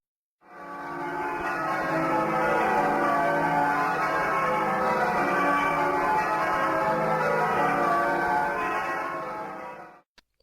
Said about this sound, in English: bells, all cast at the same time by John Taylor and Company of Loughborough in 1923